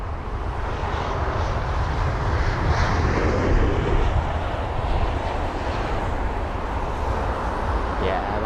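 Steady roar of an Etihad Airbus A380 airliner landing at London Heathrow, loud and continuous throughout, with broadband engine noise and wind-like rumble, no clear voices.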